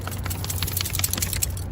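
A dog shakes itself off beside a car on a road trip through South Carolina: a quick burst of close, loose flapping and rattling with no voices.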